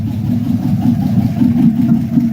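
A truck engine runs loudly and steadily inside a garage with an exhaust fault. The low rumble holds a constant idle throughout.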